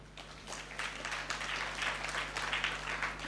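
A spiritual discourse audience on Shirdi Sai Baba claps in a steady, moderate wash of applause heard from a distance over a faint electrical hum.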